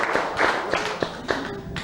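An audience clapping for itself at a live morning show, a short burst of sparse, uneven claps with a few louder taps, fairly close and brief.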